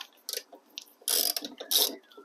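A bolt is worked loose from the rear door panel of a Honda Civic, giving short close ratcheting clicks in a few quick bursts with pauses between, nearby and fairly quiet.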